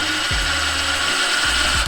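A power drill whirs steadily while a sliding closet door is being installed, its motor pitch dipping and rising as the trigger is eased and squeezed.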